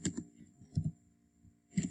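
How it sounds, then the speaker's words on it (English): Computer keyboard typing up close, coming in three short clusters of keystrokes separated by quieter pauses, with no talking. "I can simply start typing."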